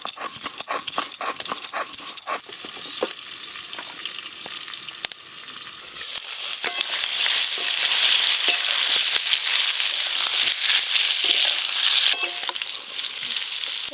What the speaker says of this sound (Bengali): পটল আলু দুটোই লাল লাল করে ভাজা হয়ে গেছে